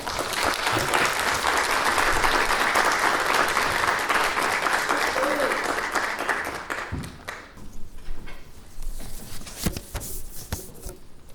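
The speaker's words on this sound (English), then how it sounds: "Please give her a round of applause as she comes on stage." An audience applauds at a women's leadership keynote as a speaker comes on stage, with dense, loud clapping for about seven seconds, then thinning to scattered claps and faint room noise.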